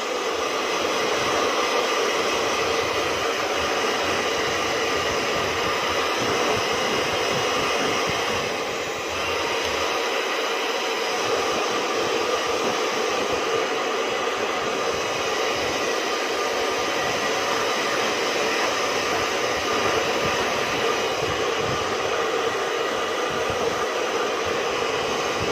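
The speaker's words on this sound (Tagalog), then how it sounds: "i-blower na natin si Cookie" A hair dryer blows steadily on a dog after its shower, a loud, continuous whoosh running close and unbroken, with only a brief dip partway through.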